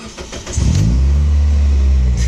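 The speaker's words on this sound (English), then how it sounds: "now we're gonna actually try to start the car" A Toyota Scion xB car engine cranks briefly and then catches, settling into a loud, steady idle close by with no voices.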